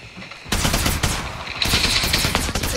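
Rapid automatic gunfire in the mobile shooter Apex Legends Mobile, loud dense bursts that run almost continuously after a short quiet lead-in, with no talking.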